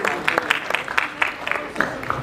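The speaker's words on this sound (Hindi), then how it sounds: "जोरदार तालियों की गड़गड़ाहट हो जाए दोस्तों।" Audience at the Hindustan Ratna Awards 2024 ceremony claps, a moderate burst of crowd applause with uneven rhythmic peaks, with a voice faintly present underneath.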